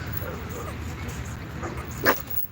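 An excited dog, eager to play with another dog, whimpers and lets out a short sharp bark, fairly close, amid background chatter and room noise.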